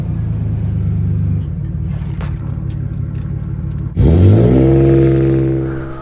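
A 2024 Surron X electric dirt bike setting off toward downtown, a steady motor hum followed by a sudden rising whine as it accelerates hard, loud and close, with no talk.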